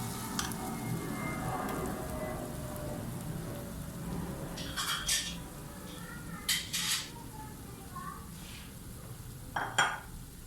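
A spoon stirring makhandi halwa in a pan, scraping and sizzling softly up close, with a few sharper metallic clinks of utensil against the pan near the end.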